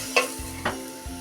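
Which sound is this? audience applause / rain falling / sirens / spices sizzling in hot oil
spices sizzling in hot oil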